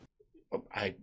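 A short, sharp sneeze bursts out after a couple of faint intakes of breath, close to the microphone.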